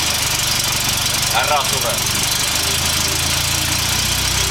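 An engine idles steadily with a low, even rumble throughout, while someone speaks briefly over it partway through.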